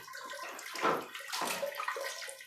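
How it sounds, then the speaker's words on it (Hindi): Water drains out through the filter of a front-load washing machine in a continuous splashing, gurgling flow that swells and eases, fairly close and with no talk. "पानी निकल रहा है वॉशिंग मशीन से"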